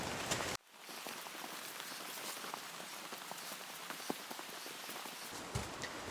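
Steady rain patters all around in the woods, a dense hiss of drops on leaves and ground with occasional louder drips, continuous and close.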